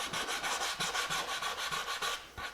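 Sandpaper rubs back and forth along the edge of a wooden sign in a quick, steady rasping rhythm, close and fairly soft, with no voices.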